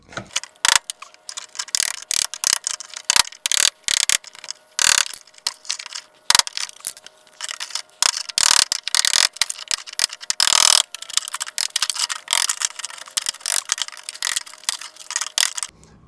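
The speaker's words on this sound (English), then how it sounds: "I had to chip away all that filler and wood" Filler and wood being chipped away from the body of a fake 1980s supercar kit car, heard as sharp, irregular clicks and knocks in quick succession, some louder and closer than others, with no talk.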